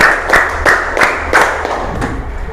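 A classroom group claps in a counting game, delivering a series of loud, evenly spaced collective claps, about five or six in quick rhythm, close and clear with faint room murmur.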